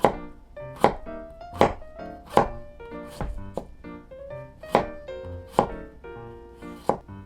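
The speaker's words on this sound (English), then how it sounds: "Next, slice the ginger thinly." A knife thinly slicing ginger on a cutting board, about nine sharp, evenly spaced knocks, close and clear, with quiet background between strokes.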